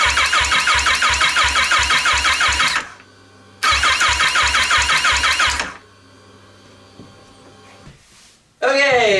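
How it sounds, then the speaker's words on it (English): A supercharged Kawasaki Ninja H2 motorcycle engine is cranked over in two loud bursts of rapid, rhythmic chugging, each a few seconds long, separated by a short pause. Afterward the sound drops to a quiet lull, then a brief new noise starts. "I kind of want to turn the engine over and see it spin."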